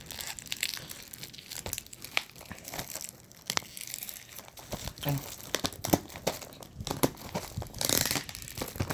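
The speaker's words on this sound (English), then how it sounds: "Okay, so now I'm gonna unbox." Toy Story 4 Blu-ray packaging being unboxed, with close, irregular bursts of plastic crinkling, crumpling and tearing in rapid succession, and a voice talking over parts of it.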